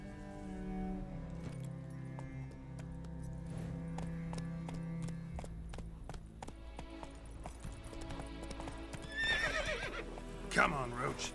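Roach, Geralt's horse in The Witcher 3: Wild Hunt, gives a clear whinny, with hoof clip-clops, jingling tack, a game music bed and a voice speaking.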